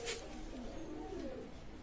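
Dabala pigeons in a loft give a soft, low, continuous cooing over a steady murmur of background noise, with no speech.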